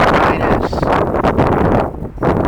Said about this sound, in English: The wind is blowing, but it's not that cold.